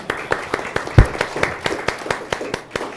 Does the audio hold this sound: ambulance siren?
no